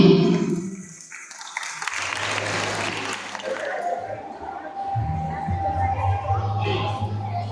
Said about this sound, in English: Let's all clap louder and louder for Srini, who made us all so proud today.